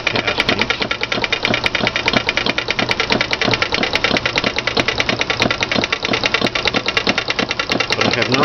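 An antique miniature Victorian steam engine and small steam pump run together, making a steady, rapid mechanical clatter with regular ticking beats that continue without pause throughout.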